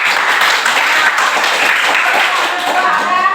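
Students applauding in a classroom during a Hindu religious education lesson, a steady close burst of clapping lasting throughout, with voices faintly mixed in.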